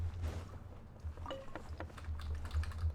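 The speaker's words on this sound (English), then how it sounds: "It's a big ass typewriter." A huge typewriter clacking away in Genshin Impact's Fontaine courthouse, a string of light, quick keystroke clicks over a low steady hum, fairly quiet.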